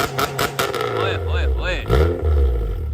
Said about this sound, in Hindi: अब आप लोगों को 2-3 रेसें दे के चेक करवाता हूँ।